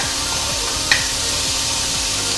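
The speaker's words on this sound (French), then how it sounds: "je vais commencer par faire revenir les lardons" Bacon lardons fry without oil in a sauté pan on an induction hob at medium heat, giving a steady close hiss of sizzling with one brief sharper crackle partway through.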